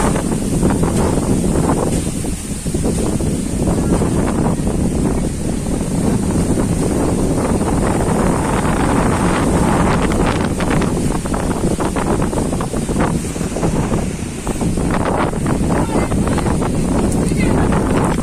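Strong, cyclone-like wind blows outdoors near ponds on a rainy day, a loud continuous roar of buffeting gusts on the microphone through the whole stretch, with faint voices underneath.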